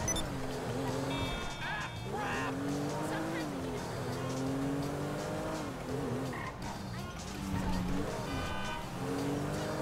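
Buzzy, thin-sounding engine of a Jaguar F-Type-style sports car in GTA Online revving continuously, pitch rising and falling through gear changes, with a voice talking over it.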